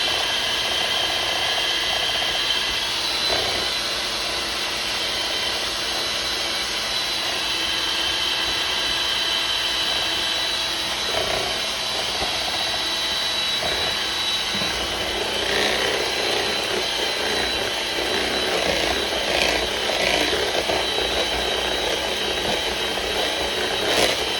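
White bundt cake batter being beaten with a mixer, a steady loud whirring drone that runs throughout with scraping and knocking in the bowl, no talk.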